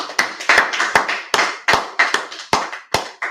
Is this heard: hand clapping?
yes